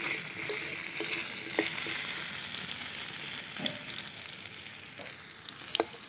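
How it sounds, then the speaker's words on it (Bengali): Potatoes fry in mustard oil in a kadai for a Bengali katla fish-head muri ghonto, a constant moderate sizzle with scattered small crackles and a few faint clicks of a utensil. "আলুগুলো আমি একটু লাল লাল করে ভেজে নিলাম"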